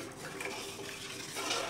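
Cornflour halwa being stirred in a pan over low flame, soft scraping and faint clinks of a spoon against metal, quiet and close.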